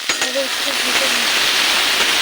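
Green chillies, chopped tomato and peas frying in a pan make a loud, steady hissing sizzle, with a brief voice at the very start before the frying noise carries on alone.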